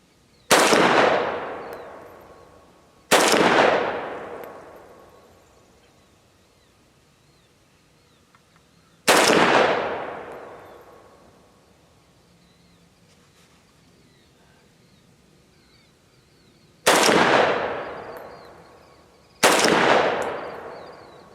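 Semi-automatic shots from a Riley Defense RAK 47 rifle firing steel case ammo outdoors: five loud, sharp reports spaced unevenly, each trailing into a long fading echo, with no talking.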